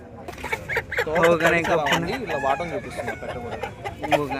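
Roosters and hens at the Gudur poultry market, where fighting cocks are sold, call and cluck repeatedly up close over a steady crowd murmur, with the voices of people nearby mixed in.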